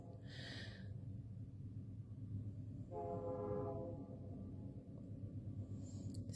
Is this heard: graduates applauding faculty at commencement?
no